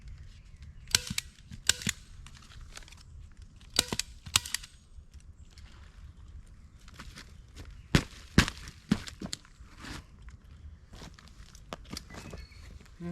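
A Tikka TX3 rifle in .308 fires 150-grain custom loads at a quiet outdoor range. Several sharp, loud reports spread across the stretch, around two each near the start, middle and end, with fainter clicks and handling noises between.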